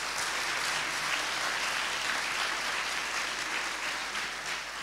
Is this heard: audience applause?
yes